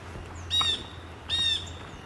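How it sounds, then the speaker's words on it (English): Tufted titmouse calling outdoors, two clear high whistled notes about three-quarters of a second apart over a low steady background hum. "And I just heard a tufted titmouse."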